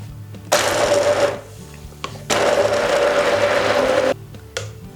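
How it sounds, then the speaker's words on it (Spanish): A blender whirs through almond cream with water, in two loud sustained bursts separated by a short pause, followed by a brief final pulse. "Y trituramos."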